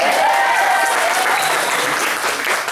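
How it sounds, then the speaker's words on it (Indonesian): Loud, dense applause from an audience at a hospital's 2016 kick-off event fills the whole stretch, with a few voices calling out through the clapping. "Mana tepuk tangannya Poli?"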